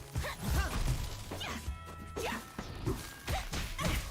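Sharp smash attack hits in the fighting game Them's Fightin' Herds, several punchy impacts and whooshes landing in quick succession, loud and close over game music.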